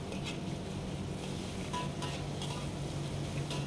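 Chicken and bean sprouts sizzle steadily as they stir-fry in a pan while a utensil stirs and scrapes now and then; there is no speech.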